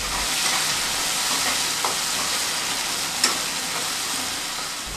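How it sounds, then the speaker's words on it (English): Milk boils in a pan for malai kofta with a steady bubbling hiss, while a spoon stirs through it with a couple of faint scrapes; no voices. "Now you need to add milk in it and let it boil for some time. Keep stirring in between."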